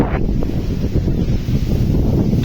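Strong wind roars steadily in a village, buffeting the microphone with a dense low rumble and no pauses.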